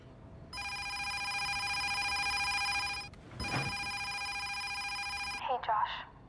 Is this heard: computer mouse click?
no